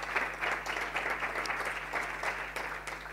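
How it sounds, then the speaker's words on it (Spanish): Audience applause at a school competition award ceremony, a moderately distant, even patter of many hands clapping continuously with a faint steady hum underneath. "Un aplauso."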